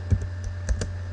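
Typing on a computer keyboard while working in IPython, a few scattered soft key clicks close by over a steady low hum, with no talking.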